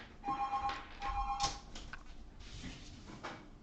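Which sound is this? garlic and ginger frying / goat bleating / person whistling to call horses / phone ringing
phone ringing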